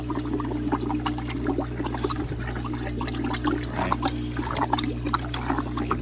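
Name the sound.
sponge filter squeezed in bucket of water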